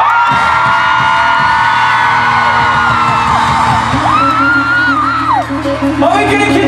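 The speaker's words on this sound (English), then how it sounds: "Are we gonna continue yelling for no reason?" A big crowd at a night event in Stockholm yells, whoops and cheers loudly and without a break, with high, rising shouts cutting through a dense, roaring wall of voices.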